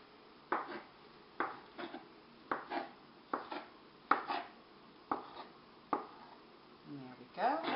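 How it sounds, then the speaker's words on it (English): A knife cuts cooked, peeled sweet potato into cubes, giving about a dozen soft, close knocks on a board at a steady uneven rhythm, with a voice speaking between the cuts. "We're just going to slice this into cubes and put it right into our mixing bowl."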